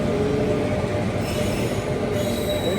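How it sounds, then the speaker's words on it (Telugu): A Kanyakumari–Howrah train rolls into the neighbouring platform at an Indian railway station, its wheels squealing loudly and continuously against the rails with a steady rumble of passing coaches close by. "పక్క ప్లాట్ఫామ్లోకి ఇప్పుడే ఒక ట్రైన్ అయితే వస్తుంది."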